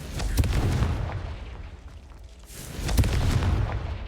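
Confringo fire spell blasts in a Hogwarts video game: two booming explosions a few seconds apart, each a heavy burst that swells and fades, with no voices.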